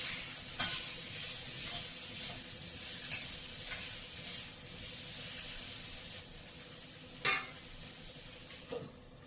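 Taro pieces seasoned with salt and turmeric fry in a pan, giving off a soft continuous sizzle. Several sharper scrapes and clatters of a spatula break in at irregular intervals as the pieces are stirred.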